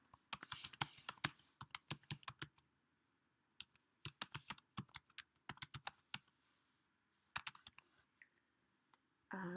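Typing on a computer keyboard: bursts of quick, close, fairly quiet key clicks with short pauses between runs, no voices.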